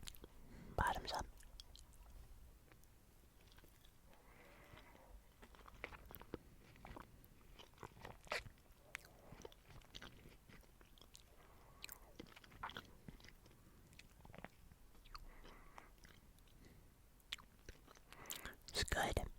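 Close, soft chewing and crunching of a big bite of cheesecake with a cookie topping, wet mouth sounds and faint whispery breaths at low volume, with a couple of louder bursts at the start and end.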